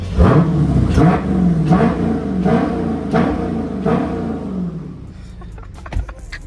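A Dodge Scat Pack with a 392 HEMI V8 makes a loud, close pull: the engine revs up in about five rising sweeps, each surge followed by a shift, before easing off into a quieter idle.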